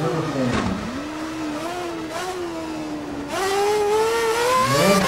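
A Formula 1 car engine in F1 2011 at the Shanghai International Circuit revs and climbs in pitch as it accelerates, dips briefly, then surges higher again, loud and continuous.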